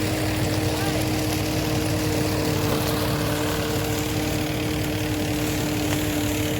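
A tractor-fed groundnut thresher runs at a steady, loud mechanical drone with a constant engine hum and a rattling churn, unbroken and close, while someone talks over it.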